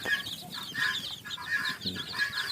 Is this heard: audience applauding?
no